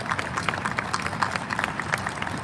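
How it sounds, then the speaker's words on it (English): An outdoor crowd at a community water tower lighting event gives a round of applause, dense steady clapping from many hands at a moderate distance, sustained throughout with faint voices mixed in. "So I do think we need to give another round of applause"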